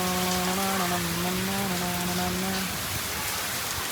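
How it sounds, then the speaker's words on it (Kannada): Steady rain falls in North Karnataka, a constant broadband wash of drops that runs unbroken through the whole stretch, with a brief tonal hum layered over it early on. "ಬಟ್ ಅಟ್ಲೀಸ್ಟ್ ಇವಾಗ ಚಂದ ಮಳೆ ಬರತ್ತದ"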